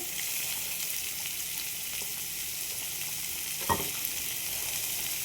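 Onions sizzle in a pan around pieces of brinjal, a steady close frying hiss with a single sharp knock of a utensil partway through and no talking.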